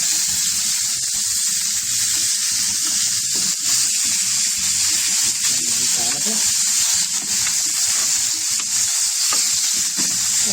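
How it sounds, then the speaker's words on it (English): Steak sizzles loudly in a hot pan while garlic and butter are spooned over it, a steady, dense crackle with faint stirring and clinking underneath, continuous and close throughout. "we're just going to baste the steak for a few minutes with the garlic butter"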